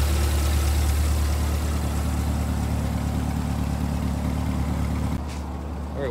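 2024 Chevrolet Corvette E-Ray with its 6.2-liter V8 hybrid and quad exhausts, running at a steady deep idle close up, loud and continuous, settling slightly lower near the end.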